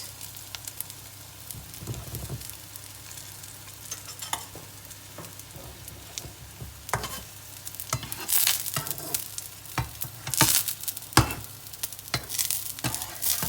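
Turkish courgette and feta fritters frying in oil in a pan, a soft continuous sizzle broken by sharp crackles, pops and scraping of a utensil, close and steady.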